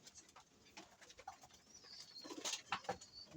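Faint pigeon cooing comes from a small, stunted racing pigeon, with soft repeated coos over quiet background rustle and a few brighter chirps.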